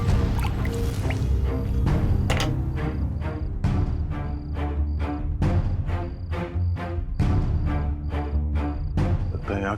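Liquid acid drips and splashes rapidly and continuously, wet impacts overlapping in an uneven rhythm with some sloshing, loud and close throughout, set against a busy background.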